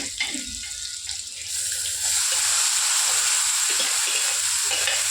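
Onions and green chillies sauté in hot oil with mustard seeds, giving a loud, steady sizzling hiss that swells after a brief quieter start and holds close and constant.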